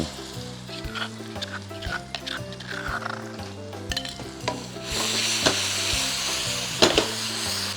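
Food stir-fried in oil in a wok with Thai cooking, a steady sizzle broken by rhythmic scraping and clanking of a spatula against the pan, close and loud.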